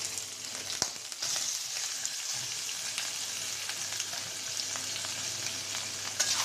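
Pieces of katla fish sizzle steadily in hot oil in a pan, a dense, continuous hiss with occasional crackles and pops, close and alone.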